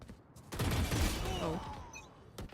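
Gunshots in the Valorant video game ring out as a quick burst of shots amid game sounds, fairly close, with a voice talking over them.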